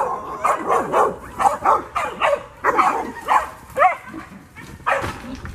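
Hunting dog pups bay repeatedly at a hog inside a training bay pen, loud close yips and barks coming in quick irregular bursts, with occasional whimpering.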